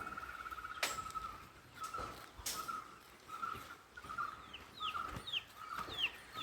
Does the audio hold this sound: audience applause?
no